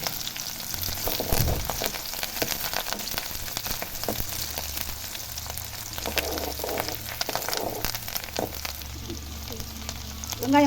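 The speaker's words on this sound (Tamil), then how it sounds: "வெங்காயம் கொஞ்சம் வதங்கிடுச்சு" Onions and curry leaves sautéing in oil for a dried-fish thokku: a soft, crackling sizzle with irregular spoon-stirring clicks, a low steady hum beneath and a brief louder spatter near the end.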